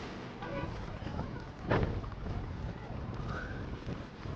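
Strong wind buffets the microphone in a steady low roar, with a sharper gust partway through.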